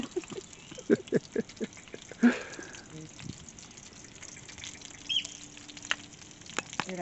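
Breakfast cooking in a campervan: soft sizzling and frying with scattered clinks and clatter of utensils, fairly quiet and close, with occasional brief squeaky sounds.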